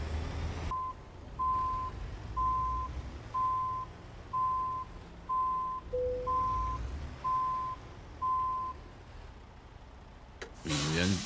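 A simulated truck in American Truck Simulator backs into a parking spot, its reversing alarm sounding about ten evenly spaced beeps over a low engine rumble, with a brief different tone partway through.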